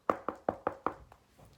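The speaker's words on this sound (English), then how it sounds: "Toad knocked at the door." Five crisp, evenly spaced knocks on a door sound close and clear, followed by a couple of fainter taps as they die away.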